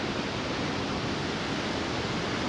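At Morialta Falls near Adelaide, a waterfall pours with a steady, dense roar that holds at one level throughout, with no voices over it.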